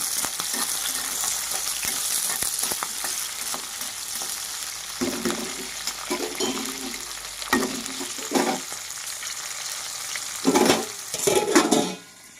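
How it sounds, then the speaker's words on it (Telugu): Green chillies fry in a pan with a loud, steady sizzle, broken by scraping stirs and clattering bursts that grow stronger toward the end. No one speaks. "పచ్చిమిర్చి లైట్గా ఫ్రై అయినాయి కదా"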